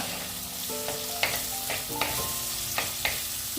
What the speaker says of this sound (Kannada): ಈರುಳ್ಳಿ ಇದೆ ಇದರಲ್ಲಿ. ಇದನ್ನು ಸರಿಯಾಗಿ ಸ್ವಲ್ಪ ಹೊತ್ತು ಫ್ರೈ ಮಾಡುವ.